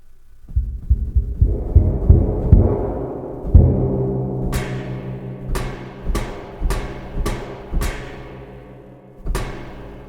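A series of percussive hits: low booming thuds at first, then sharp bright strikes that ring and decay, spaced about a second apart.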